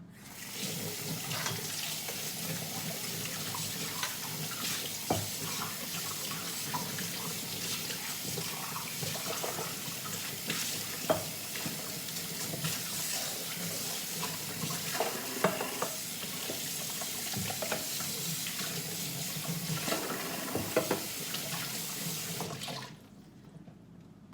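Washed dishes being rinsed under a running kitchen tap in a sink: a steady, close rush of water with small clinks and splashes throughout, stopping abruptly just before the end.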